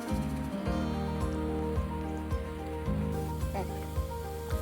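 Onions sauté in a pan for a Tamil prawn gravy, giving a steady rain-like sizzle beneath prominent background music.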